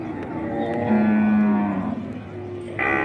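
A cow at the Som Poi cattle and buffalo market in Uthumphon Phisai, Sisaket, Thailand, lets out a single long, low moo, close and loud against the market's background noise.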